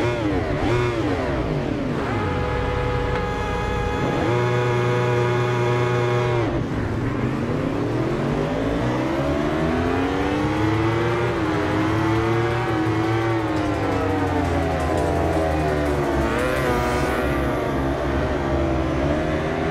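A racing car engine in a video game race through the Greek hills, loud and continuous, climbing through the revs and shifting gears with rising and falling pitch sweeps, up close, with no talk.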